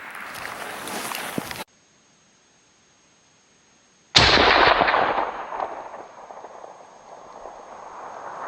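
A single sharp, loud rifle shot at a moose from about 500 yards, fired through a Nightforce NX8 4-32x50 scope, cracks out after a stretch of silence, then echoes and fades across open ground.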